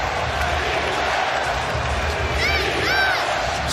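Sold-out NBA arena crowd roaring steadily through a close basketball ending, a dense wash of cheering and noise with a commentator talking over it.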